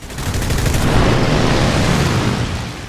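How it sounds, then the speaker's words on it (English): Loud, sustained burst of rapid cannon fire from the 20mm Hispano Mark V cannons of a Spitfire in the combat game War Thunder, close and continuous with dense overlapping shots. "It's also armed with a 20mm Hispano Mark V cannons with increased fire rate"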